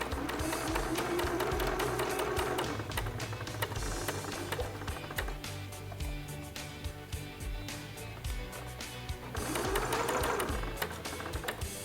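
A sewing machine back-stitches elastic for a bridal garter, a close, fast mechanical rattle running nearly nonstop with brief changes in pace.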